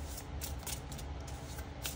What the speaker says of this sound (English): I'm going to shuffle it back in.